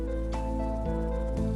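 Electronic organ playing a soft, easy rhythm with an alternating-bass style, sustained chords shifting at steady intervals over a deep bass, played alone at moderate level.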